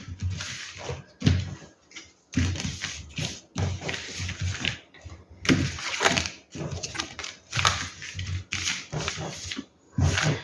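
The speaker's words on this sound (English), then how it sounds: "Let's quickly shuffle the cards again." Tarot cards being shuffled during a reading, with repeated bursts of riffling and papery slapping in quick rhythmic clusters, fairly close and steady throughout with no talking.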